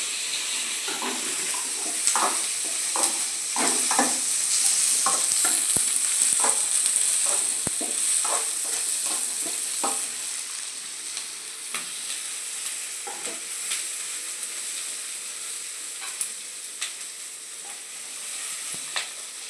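Green chillies fry in hot oil in a pan, a continuous close sizzle broken by repeated scraping stirs, loud at first and easing later, with no voices.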